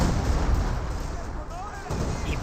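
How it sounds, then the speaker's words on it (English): Artillery barrage in the Company of Heroes 2 strategy game, a continuous low rumble of distant blasts and booms under a busy battle soundscape. "No, it's an actual barrage."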